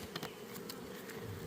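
Honey bees buzzing steadily around a double-deep hive being split into nucs, a dense continuous drone with a few individual bees passing close, no talking.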